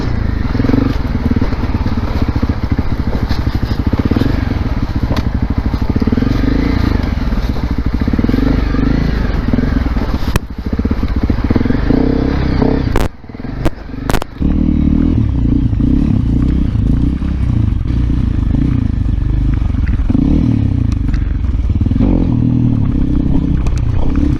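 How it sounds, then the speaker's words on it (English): A Honda CRF250L Rally motorcycle rides off-road, its engine a loud, steady near drone with rattling and scraping from rough ground, broken by a few sharp jolts and brief dips partway through. "Never let anybody tell you that the CRF can't ride off-road."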